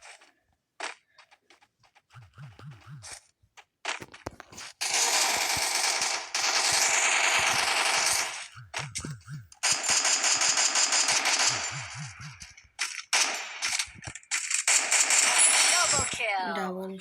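Rapid automatic gunfire in a shooting video game comes in several long sustained bursts between short single shots and clicks, loud and close; someone talks in between.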